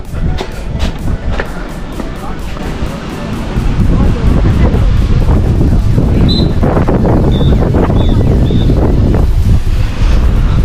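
Strong wind buffets the microphone while sea waves wash onto Deva Samudra beach at Gokarna. The roar is loud and constant, with voices faintly mixed in beneath it.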